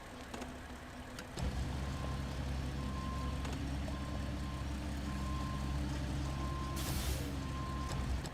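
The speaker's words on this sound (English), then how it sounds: "God, I love the Kenworth." A Kenworth truck idles with a heavy, rumbling diesel engine, a regular reversing beep repeats over it, and a sharp air-brake hiss bursts out near the end. No one speaks.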